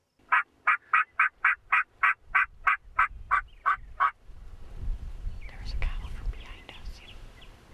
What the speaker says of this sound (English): heard that first gobble